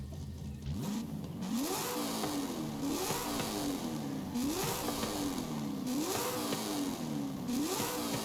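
A drag car in the racing game Forza Horizon 5 revving hard and accelerating, its engine climbing in pitch through rapid repeated gear shifts, loud and close, each surge ending in a brief drop before rising again.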